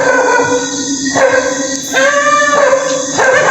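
A dog barks and yips repeatedly in short bursts amid steady outdoor noise, moderately loud and fairly close, with no talk over it.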